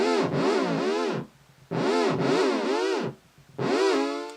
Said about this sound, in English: this is the pitch that I created that's getting looped over and over again